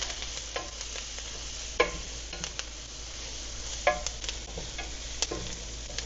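Homemade ketchup ingredients with a shake of turmeric cooking in a pan, a steady close sizzle with occasional light stirring scrapes, no voices.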